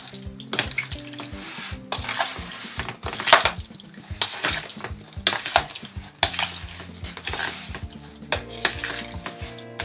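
Turkey with soy sauce is stirred in a pan: a spoon scrapes and clacks against the metal in uneven bursts over a steady sizzle. The sound is close and fairly loud, with no voices.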